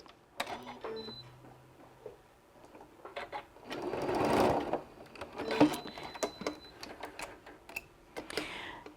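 A home sewing machine chain-pieces fabric in short rapid bursts of stitching, stopping and starting with mechanical whirring and clicks, fairly close and moderately loud with no talking.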